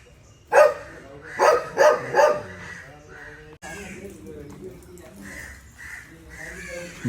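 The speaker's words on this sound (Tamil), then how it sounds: "போலீஸ்னா மோப்ப நாய்கள்" Police sniffer dogs give a short run of three or four loud barks near a police station, followed by someone talking over quieter background noise.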